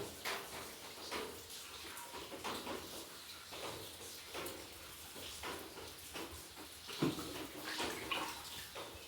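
Hands are rinsed under running water in a home kitchen while laddoos are being made, with faint, intermittent splashing and trickling plus a soft knock partway through.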